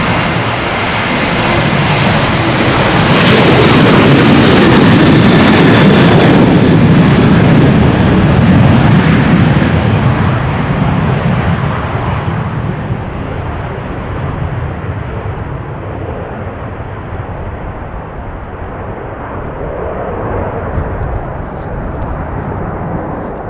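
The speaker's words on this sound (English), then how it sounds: "Was one of Transavia's many 737s." A Transavia Boeing 737 departs runway 36L at Amsterdam Schiphol in showery weather. The loud jet roar builds to a peak and then slowly recedes into a fading rumble as the aircraft climbs away.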